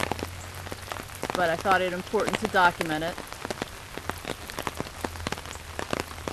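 Rain falls on a flooded residential street, a steady patter of sharp drops and splashes throughout, while someone talks nearby.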